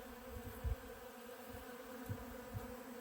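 Bees buzzing around feeders in an organic garden in Tucson, a soft continuous insect hum with a few louder passes as individual bees fly close to the microphone.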